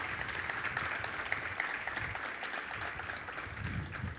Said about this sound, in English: Can we give these students another round of applause?